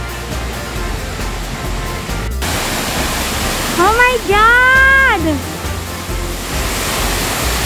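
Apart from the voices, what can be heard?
water rushing at Tai Tam Tuk Reservoir Dam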